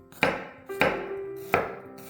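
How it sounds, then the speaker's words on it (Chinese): A kitchen knife chops garlic cloves into mince on a cutting board, in three sharp, close strokes spaced about a second apart with short ringing tails. "大蒜切成蒜末即可。"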